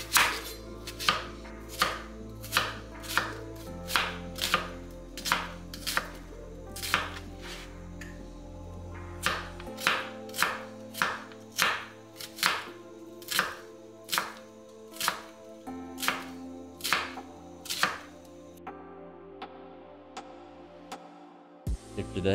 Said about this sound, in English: Then you want to chop the onions until it is your desired size.